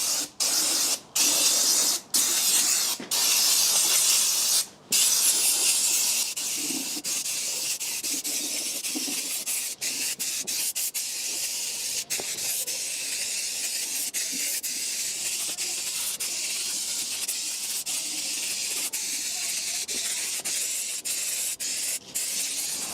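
Brake cleaner sprayed in a steady, loud hiss over a Mini Cooper front subframe, opening with a few short bursts before settling into one long continuous spray.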